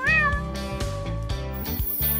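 A pet cat meows loudly and close by, a drawn-out tonal meow followed by a few shorter repeated calls with a rising tone at the end, no speech over it.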